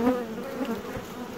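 Honeybees in an opened hive colony hum in a steady, close, moderately loud drone, with slight swells through a brief stretch.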